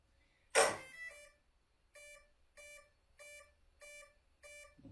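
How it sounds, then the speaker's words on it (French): Electronics of a Losi DBXL-E 2.0 8S radio-controlled car beeping after power-on: a loud burst at first, then five evenly spaced, clear electronic beeps about every 0.6 seconds, with no talking. "je crois qu'il faut attendre la fin des bips"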